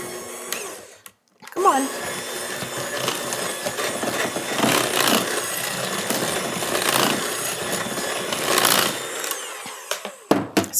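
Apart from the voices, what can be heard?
mixer mixing peanut butter sourdough cookie dough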